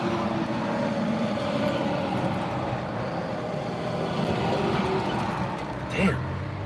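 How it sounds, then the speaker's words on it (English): Trucks rumble past on a road heading into Gettysburg, heard from inside a moving vehicle as a steady low engine and tire drone with a brief louder swell near the end. "there's a lot of trucks there"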